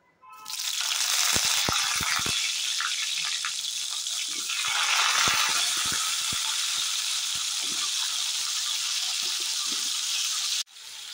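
Cauliflower florets fry in hot oil in a pan, a loud, continuous sizzling hiss lasting about ten seconds with scattered clicks and rattles as the pieces shift.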